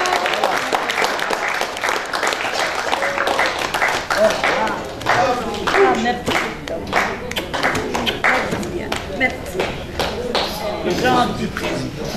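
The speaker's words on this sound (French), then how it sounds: "On l'applaudit bien fort." An audience at a celebration for elderly jubilarians breaks into sustained applause, dense clapping that fills the room for about twelve seconds while voices murmur underneath.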